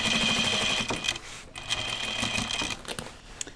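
Sewing machine stitching through thick denim jeans, a steady loud mechanical whir with a brief pause midway before running on, close and alone.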